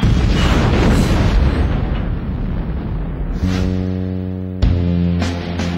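Bombs planted under the front axle of a general's car detonate with a loud, sustained rumbling boom, followed by a ringing tonal hum and a second sharp burst near the end.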